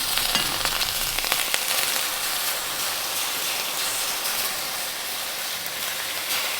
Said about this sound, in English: Now you'll hear a great deal of hissing, I think,